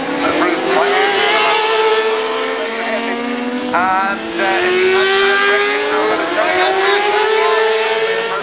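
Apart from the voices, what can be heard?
motorcycles racing through a hairpin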